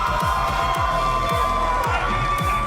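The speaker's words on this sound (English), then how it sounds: "Wow, the crowd goes wild." Esports arena crowd at the Esports World Cup in Paris cheers and roars for Team Liquid, a dense, steady wall of noise with rhythmic thumping beats underneath.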